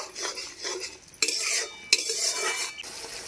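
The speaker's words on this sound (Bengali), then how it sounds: "মশলাটা আমি ভালো করে কষিয়ে নেব।" A spoon stirs and scrapes ground masala in a pan with a faint sizzle, two sharp metallic knocks standing out among the close, continuous stirring, no voices.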